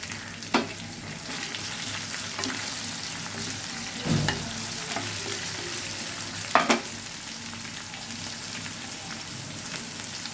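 Fresh pounded ginger frying in hot oil for a tomato egg curry, a steady close sizzle with soft crackles and a few sharper pops, no talking.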